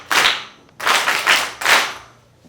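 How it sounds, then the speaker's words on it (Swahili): Young confirmation candidates at a church gathering break into three bursts of group hand-clapping, each a loud, dense round of claps lasting about half a second with short pauses between. "Pigeni makofi."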